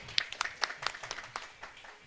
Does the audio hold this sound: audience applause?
yes